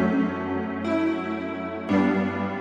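Honky keys synth sample from a wave pack, used as the main keys sound in an 80s pop and disco track, plays bright sustained chords that change twice, loud and alone.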